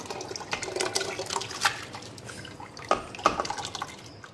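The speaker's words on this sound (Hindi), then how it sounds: "ये जो हमने दलिया भिगाया था उसका पानी है ये वो भी हम डाल देंगे" Soaking water from wheat porridge poured into a pot for mutton haleem, heard as close splashing and trickling with a few sharp drips and light clinks of the vessel.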